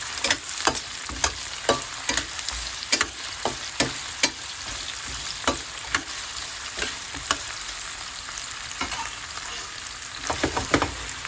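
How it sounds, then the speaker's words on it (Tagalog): Carrots and potatoes frying in very hot oil for menudo make a loud, continuous sizzle, with irregular clicks and scrapes from stirring throughout. "pag mainit na mainit yung ating mantika, hindi na didikit yung ating carrot"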